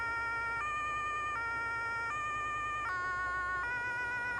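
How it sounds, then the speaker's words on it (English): A Farming Simulator 22 emergency vehicle siren alternates steadily between two tones, loud and continuous with no talking. "if you want to change the siren sound, control 4 on the numpad"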